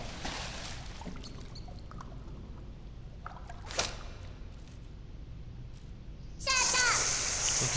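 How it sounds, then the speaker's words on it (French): A water pistol fires in the Worms Revolution game, a sudden bright burst of spraying, splashing water that starts near the end and runs on loudly, after a stretch of quieter game sounds and a few soft clicks. "Donc ici, il fait le pistolet à eau, ça sert pas à grand chose"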